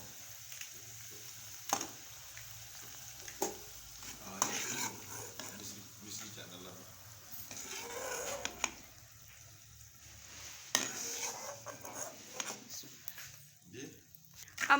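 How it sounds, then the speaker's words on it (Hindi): Almonds fry in a pan for an Afghani chicken Kabuli pulao, with soft sizzling and stirring scrapes and clinks of a utensil against the pan, while a voice talks quietly in the background. "1 मिनट के लिए माँ जी अब बादाम को फ्राई करेंगी।"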